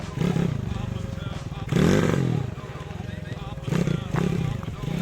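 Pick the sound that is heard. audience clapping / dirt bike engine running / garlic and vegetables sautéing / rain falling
dirt bike engine running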